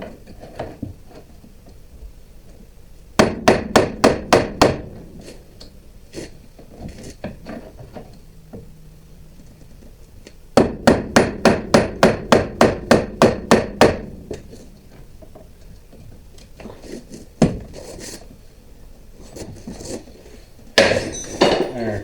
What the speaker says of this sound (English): So we got a big pry bar. We'll pry down on this at the same time.